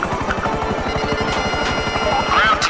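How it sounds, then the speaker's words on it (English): A helicopter in GTA V Online thrums close and loud, its rotor beating in a fast, steady pulse the whole time, with faint game effects and a rising tone near the end. "Guys, get in my helicopter"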